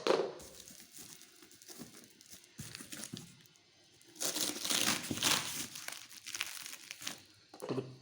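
Cardboard and plastic packaging of an Acer Nitro 27-inch gaming monitor box is opened, close crinkling and crumpling with scattered rustles and tearing sounds in uneven bursts, louder toward the middle.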